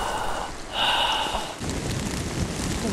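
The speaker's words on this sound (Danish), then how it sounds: "Det begynder at regne." Rain begins falling outdoors in a forest during cold weather, a steady broadband patter on surfaces that thickens partway through, with a brief snort-like breath earlier.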